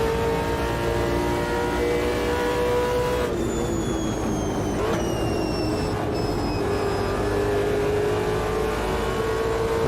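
Race cars in the Automobilista 2 sim racing game roar along together in a pack, engines droning and shifting pitch as several cars pass close by, a dense continuous mechanical whine with no voices.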